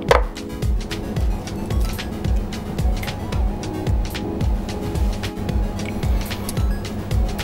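Knife chopping through a lobster on a board, a rapid series of close, repeated cutting thuds and cracks in a steady rhythm, alone with no talk.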